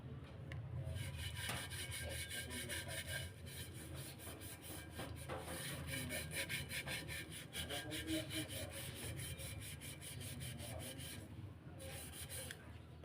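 Nonstick pan being scrubbed with toothpaste, a continuous quiet rubbing and scraping with rapid back-and-forth strokes, no speech over it.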